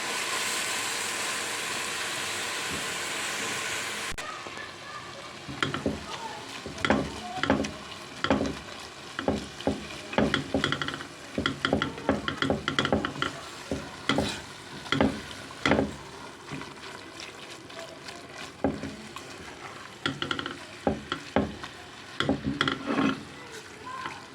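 Minced meat fries with onions in a pan and is broken up and stirred, giving a continuous sizzle under repeated scraping and knocking of a spoon, at close range.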